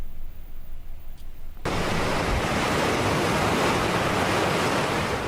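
Storm winds and rain in Karachi: a steady, loud roar of wind-driven rain and gusts bursts in abruptly after a quieter start, then continues as a dense, unbroken rush close to the microphone.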